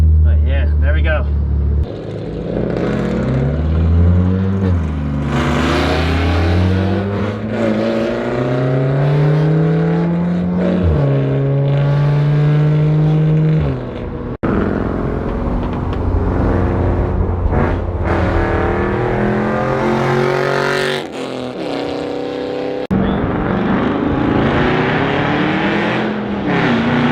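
A straight-piped Ford Mustang exhaust revs loudly and close by, its pitch climbing and falling through repeated throttle blips with a raw, unmuffled roar.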